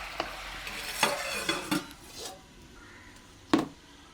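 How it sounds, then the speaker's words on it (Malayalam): A spoon scrapes and knocks against a pot of cooked rice being stirred, a few distinct clunks and scrapes spaced unevenly, close and fairly loud with a quiet background between strokes. "തുറന്നിട്ട് ഇളക്കാല്ലേ?"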